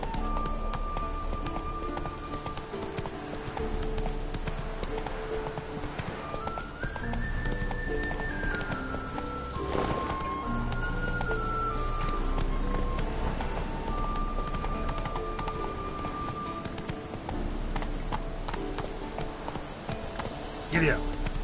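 Horse hooves pounding in a steady galloping rhythm in the video game The Witcher 3, running continuously under game music and a voice talking throughout.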